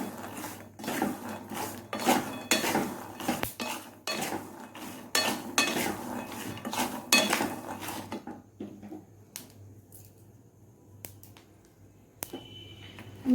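Nuts are dry-fried in a pan while being stirred, a rapid series of close rattling scrapes and clinks for several seconds that then thins out into sparse, quieter taps.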